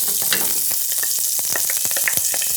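Oil carrying little garlicky bits sizzles loudly in a hot pan, a dense, close hiss broken by scattered sharp pops and crackles, alone without any voice.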